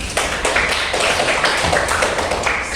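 Classroom of students clapping together in a loud, steady burst of hand claps that holds evenly throughout.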